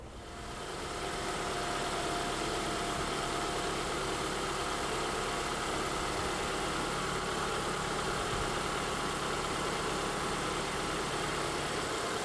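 A BMW 528i, a 5 Series car, running in drive with sport mode engaged, its engine giving a steady, even hum with a faint vibrating drone that holds unchanged for twelve seconds, no voices.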